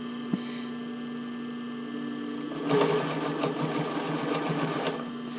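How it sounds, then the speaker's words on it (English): Sewing machine running a long top stitch on a sports bra. A low mains hum is heard first, then the needle chatters in a steady rapid rhythm for the last few seconds, close and fairly loud. "So this one I'm going to do just a top stitch, and I've got a nice kind of big stitch here."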